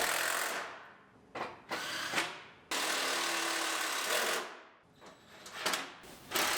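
A power tool whirs in several bursts while bolting a fender onto a 2002 Pontiac Grand Am GT, its loud motor spinning up and cutting off between fasteners close by.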